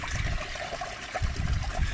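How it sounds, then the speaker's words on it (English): Spring water from a holy well trickles and splashes steadily close by, a soft continuous babble with low gurgling, quiet and alone. "But that's a holy well, like spring water, you can drink that."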